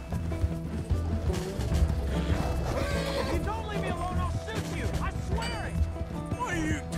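A horse in the open-world western game Red Dead Redemption 2 whinnies and neighs several times over a hurried run of hoofbeats, blended with steady game sound and people talking throughout.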